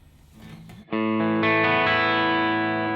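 Electric guitar played through a ToneX Plug amp model of a Studio Rats bad cap tone, a distorted, saturated chord ringing out loud and sustained after a brief quieter lead-in.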